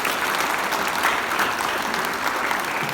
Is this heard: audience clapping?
yes